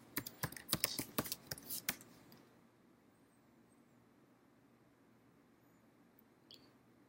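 Rapid keyboard typing while logging in with an ID and password, a quick burst of close, crisp key clicks for about two seconds, then quiet room tone with one faint click near the end.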